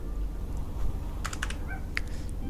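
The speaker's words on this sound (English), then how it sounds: "I just finished just typing up this thing real quick" Quick bursts of clicking keys on a computer keyboard, typed into a notepad, scattered in short clusters over a steady low background hum with no voices.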